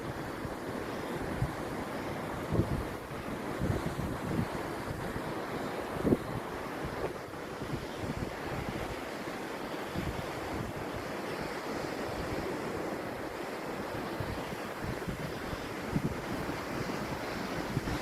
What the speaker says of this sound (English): Waves rolling in.